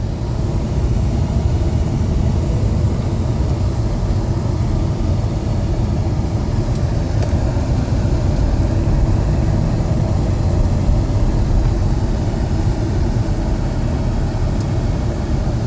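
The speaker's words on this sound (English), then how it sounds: "Now we're going to go for a test drive in the 2001 Jeep Grand Cherokee Laredo." A 2001 Jeep Grand Cherokee Laredo on a test drive, a steady low cabin rumble of engine and road noise holding evenly throughout with no distinct events.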